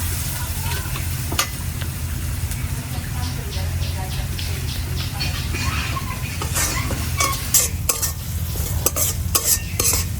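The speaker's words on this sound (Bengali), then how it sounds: "এখন মাংস বসাবো, তার জন্য পেঁয়াজটা ভালো করে লাল করে ভাজা নিব" Chopped onions stirred and frying in hot oil for a duck curry with potatoes, a steady sizzle with scraping stir strokes throughout, louder clatter toward the end, and a voice talking faintly underneath.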